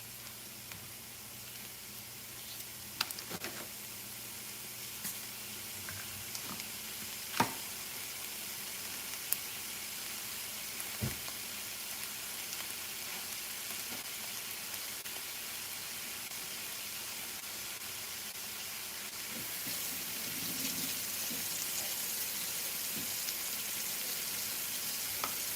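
Zucchini sautés in a pan with a faint, even hiss of sizzling oil. Occasional soft clicks and knocks of utensils break it up.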